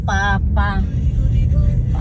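A car approaches along a road in the UAE, its loud, steady low rumble filling the whole moment while a person's voice briefly speaks over it at the start.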